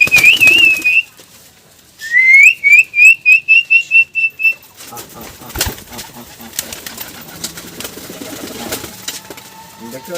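Domestic white pigeons kept by a pigeon keeper, heard as a run of sharp whistled calls in quick pulses, then a busier stretch of fluttering and clattering noise close by.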